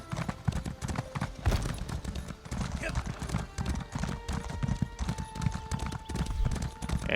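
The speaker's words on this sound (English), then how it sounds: "I haven't seen Bethesda made NPCs ride their horses in this game" Horse hooves clip-clop rhythmically in a Bethesda video game set on the High Isles, a steady close clatter of footfalls running throughout while someone talks over it.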